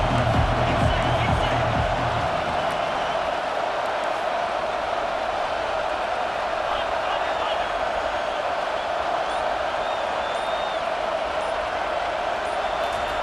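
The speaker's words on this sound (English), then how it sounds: "Here comes this home crowd as the defense tries to get off the field on 3rd down." Home crowd in EA Sports College Football 25 roaring on third down, a loud, steady stadium cheer filling the whole stretch, swelling slightly at the start and holding as a dense, unbroken wall of noise.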